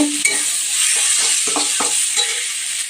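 Lentils (dal) fry in a pan until they turn reddish, making a loud, bright continuous hiss broken by repeated scraping strokes of a spatula stirring through them.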